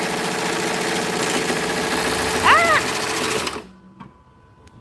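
A sewing machine runs steadily with its bobbin thread catching underneath, then stops abruptly, leaving near silence; a voice exclaims briefly mid-run.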